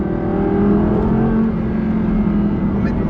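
An Audi R8 5.2 V10 Plus engine drones steadily at high revs, a loud continuous whirring tone held for several seconds without talk.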